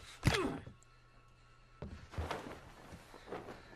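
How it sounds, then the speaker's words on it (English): A punch to the jaw in a film lands as a sharp, close thump, followed after a pause by scuffling movement and further dull impacts, with no talk over it. "The man just thumped him right in the jaw."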